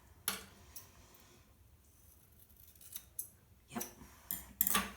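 Scissors snip through hair during a home self-trim, giving a few crisp, close cuts spaced through a quiet stretch, with a tight cluster of snips near the end.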